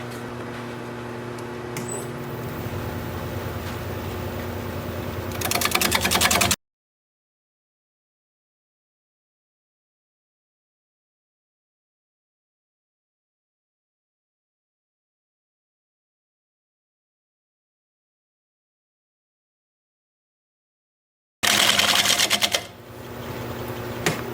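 A wood lathe spins a rough pine bowl blank that still has holes, with chunks flying off. A steady whirring motor drone breaks off into a long silence, then returns near the end.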